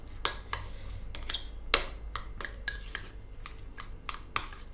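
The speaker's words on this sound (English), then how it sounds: "Now that I've mixed up my butter, paprika, and garlic" A spoon clinks and scrapes against a bowl while butter, paprika and garlic are mixed together, producing a quick irregular series of sharp metallic taps and scrapes, close and fairly quiet, with no voices.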